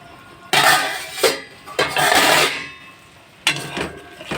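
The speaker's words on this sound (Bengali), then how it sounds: "আমি এখন ঢাকনা উঠিয়ে দেখে নেব" A pan lid is lifted and set back while egg curry cooks over a low flame, giving three separate bursts of metallic clatter and rustle with quiet pauses between them.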